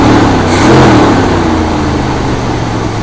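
A 1972 Buick GS Stage 1 engine with a possible vacuum leak runs rough and shaky, loud and close, with a rev that swells early then settles into an uneven, lumpy idle.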